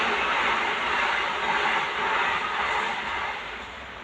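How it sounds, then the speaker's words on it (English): A fast train rushes through a station on the Brighton Main Line close by, a broad roaring rumble with faint clatter that stays loud before easing off toward the end. "So literally fast train just there."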